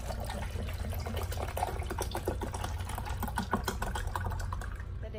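Bottled water poured while preparing coffee in a home kitchen, a continuous close trickle and splash with faint clicking textures throughout.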